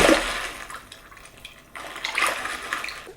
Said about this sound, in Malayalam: വെള്ളത്തിൻ്റെ ശബ്ദം